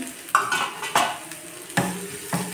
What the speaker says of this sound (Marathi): एकदम फ्राय होऊ द्यायची तेलामध्ये. इथे फ्राय झालेली आहे. हळद टाकू थोडीशी,